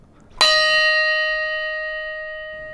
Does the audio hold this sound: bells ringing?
yes